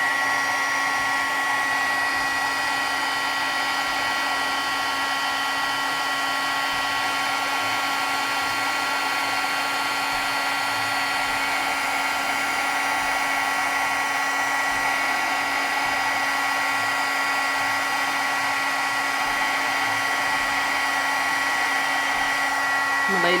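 A heat gun blows over embossing powder on a card, giving a loud, steady whooshing hum with a whine that runs unbroken from start to finish.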